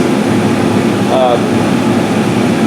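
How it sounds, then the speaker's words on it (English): A laser engraver's exhaust fan runs steadily as a loud, constant broadband whoosh that stays even throughout, with no pauses or changes. "let me turn the exhaust fan on and we'll cut through. Okay, the fan's on."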